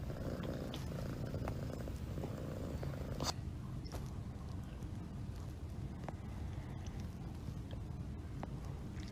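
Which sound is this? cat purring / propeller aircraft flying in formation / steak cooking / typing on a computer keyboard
cat purring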